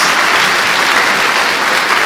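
A church congregation claps together during a worship service, a dense, loud, steady wash of applause filling the short moment.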